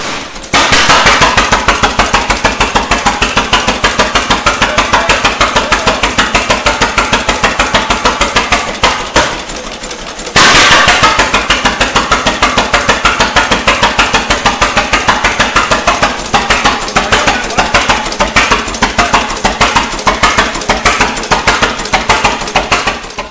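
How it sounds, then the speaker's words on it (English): A Titan 10-20 tractor, a two-cylinder stationary-type engine on wheels, fires up and runs with loud, rapid, rough explosive beats, stumbling briefly near the middle before picking back up to a steady pounding rhythm with no talk. "It's basically a 2-cylinder stationary engine on wheels"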